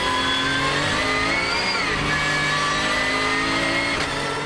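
Porsche race car on the wet Dijon-Prenois circuit, its engine loud and close, revving with rising and falling pitch through a gear change, with no voices.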